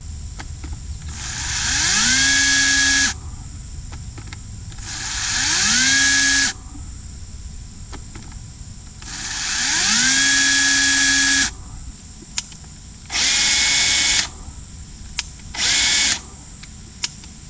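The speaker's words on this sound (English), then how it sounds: "So as the Toro stated, it was an electric chain brake, and it sounds like it." A Toro Flex-Force 60V 16-inch battery chainsaw revving in several loud whining bursts, each cut short as the electric chain brake stops the chain abruptly with no heavy click, followed by quieter brief blips.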